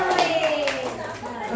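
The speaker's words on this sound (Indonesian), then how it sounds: "tepuk tangan buat Bu Eda" Small audience at a school teacher workshop session giving a short round of clapping for a participant, brief patter of hands mixed with overlapping talk and a whistling tone.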